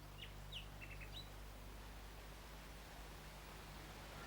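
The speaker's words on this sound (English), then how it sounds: "Do you hear the nightingale singing in the wood?" A nightingale singing in a wood, a few short, faint chirps and whistles early on over a steady hiss of background noise, then only the hiss.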